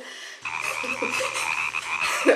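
A frog croaks in a rapid, raspy run of calls that starts abruptly after a brief silence and continues close and fairly clear to the end.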